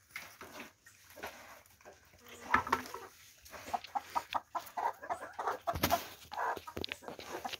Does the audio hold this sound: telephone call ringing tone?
no